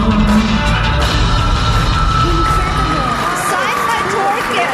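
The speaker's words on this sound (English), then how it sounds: "never had such a big enthusiastic crowd like this" A large, enthusiastic crowd cheers and shouts in a continuous loud roar, with voices and whoops blending together.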